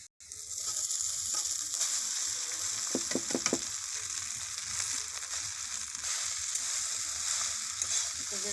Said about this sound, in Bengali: জিরেটার সঙ্গে ভাজা ভাজা করে নেব।